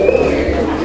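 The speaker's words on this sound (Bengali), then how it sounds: "এই দেখেন কবুতর ডাক দেখেন" A domestic pigeon gives one short, low, close coo, heard alone in less than a second.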